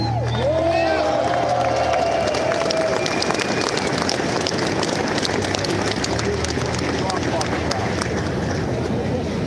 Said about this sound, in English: please give your guys self a round of applause for even being here